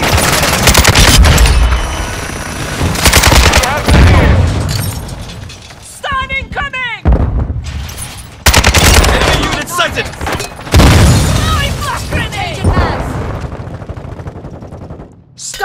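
Rapid gunfire and bursts of explosions fill a first-person shooter game match on the Dome map in 10v10 mode, loud and near, with dense volleys broken by short gaps and shouted voices between them.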